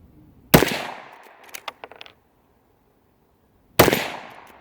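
A used Ithaca Saddle Gun in .22 Magnum fires CCI Game Point 40-grain jacketed soft-point rounds, giving two sharp, loud reports about three seconds apart, with a few light mechanical clicks between them.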